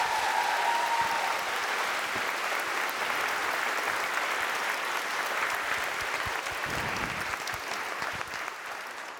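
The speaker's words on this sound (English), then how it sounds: "Your applause." Sustained applause from a lecture audience welcoming Nobel laureate Kip Thorne to the stage at a science and tech festival in Lviv, a dense, even wash of clapping that holds steady and tapers slightly near the end.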